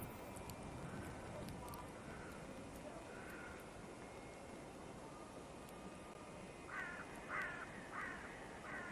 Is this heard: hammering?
no